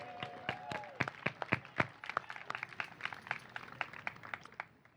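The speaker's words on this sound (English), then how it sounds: "you should give yourself a round of applause." Sparse applause at a developmental disability town hall, with a few distinct hand claps at first that thin to scattered, fading claps, fairly quiet and close.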